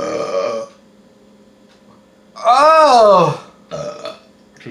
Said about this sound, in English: And I got a burp.